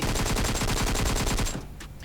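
Rapid automatic gunfire in the mobile battle royale game PUBG Mobile, a loud, close burst of evenly spaced shots lasting about a second and a half before cutting off into quieter game ambience.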